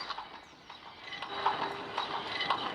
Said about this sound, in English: Now proceeding at a manic gallop on the old horse-drawn carriage.